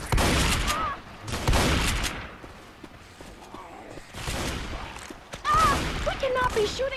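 Bursts of gunfire and shotgun blasts from the Left 4 Dead 2 video game come in loud clusters separated by quieter gaps, with players talking over parts of the action.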